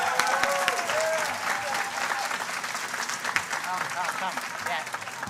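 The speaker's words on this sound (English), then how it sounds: "Can we have a round of applause for Miss Orlando?" Audience applause at a vocational school completion ceremony, dense sustained clapping from a room full of people, with a faint background voice.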